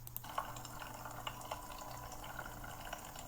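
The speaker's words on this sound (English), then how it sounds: "The jet of water misses the mark and lands to the right." A thin jet of water lands on a rotating turntable in a lab demonstration, making a steady, quiet splashing trickle with faint drips and a low hum underneath.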